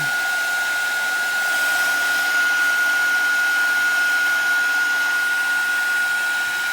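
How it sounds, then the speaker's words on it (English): A heat tool blows steadily to dry wet areas on a Halloween craft tag, a loud, constant airy whoosh with a thin high whine running unchanged throughout, close by. "turn on our heat tool, and dry up those wet areas"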